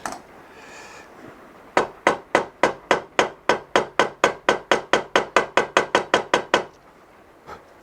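A hammer taps parts into a guitar neck on a workbench: about twenty sharp, evenly spaced knocks in a steady fast rhythm, close and loud, with no talking.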